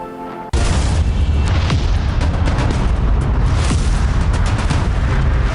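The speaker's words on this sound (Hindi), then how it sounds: "इन देशों की खास इमारतों पर ये आतिशबाजी की गई।" A continuous, loud roar of New Year fireworks exploding over landmark buildings, dense and rumbling booming bursts throughout after a sudden onset.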